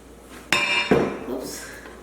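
Chopped pineapple chunks drop into a blender jar in two quick, hollow thuds with a faint clink, heard close in a quiet kitchen.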